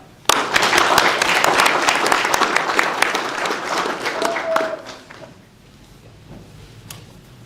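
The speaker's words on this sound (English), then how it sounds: "We actually got a cheer from the crowd there." Crowd applause and cheering at a United States citizenship ceremony, a dense burst of clapping that starts abruptly, holds steady for several seconds, then fades out, with a scattered clap or two after.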